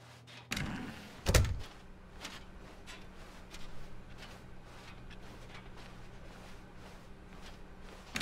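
A door opens in The Stanley Parable game with a sharp thump followed by a louder bang, then faint scattered knocks and a low steady room hum.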